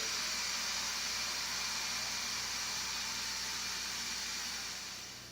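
An Instant Pot venting super hot steam while cooking a sweet potato stew gives a steady, broad hiss that stays even and fairly quiet, then fades slightly at the end, with no talking.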